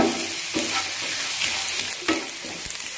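Continuous sizzling and crackling of grated coconut frying in ghee, with occasional stirring scrapes and clinks, close and moderately loud, no talking.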